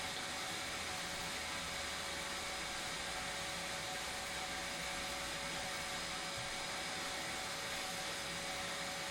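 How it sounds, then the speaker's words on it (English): A shop vac fitted with a cyclone dust separator sucks up floor debris, giving a steady loud whooshing roar with a faint whine and small rattles of grit, no voices. "the Cyclone's working nice on there"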